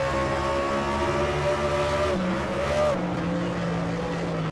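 A race car in a video game circles Sonoma, its engine a loud, steady drone that drops pitch twice as it shifts and brakes, with faint tire noise and no talk over it.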